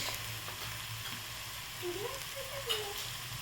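Onion fries in a pan with turmeric stirred in, a soft steady sizzle at low level with a faint scrape or two, and no talking over it.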